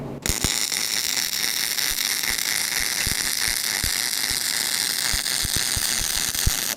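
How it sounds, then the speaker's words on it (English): Yeswelder DP 200 welder running a bead on steel with no shielding gas, a loud close steady crackling hiss sprinkled with sharp pops and spatter snaps from start to finish, no talking. "Man, that sucker's welding great"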